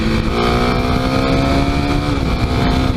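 A Kawasaki KLX300 dual-sport motorcycle engine revs steadily at around 7,000 rpm in second gear, a loud, continuous buzzing drone with a slight pitch drop near the end, blended with wind rush.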